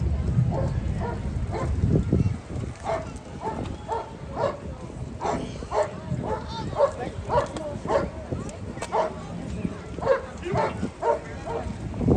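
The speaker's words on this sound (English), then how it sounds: "He's just a very loud, vocal dog." A loud, vocal police K9 dog barks in repeated bursts during a demonstration at an outdoor fall festival, with crowd chatter and talking mixed in throughout.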